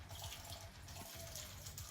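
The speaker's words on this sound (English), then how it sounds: "And then you take your corn with the liquid inside," Canned corn and its liquid pour into a pot in a steady, faint, watery rush with no break.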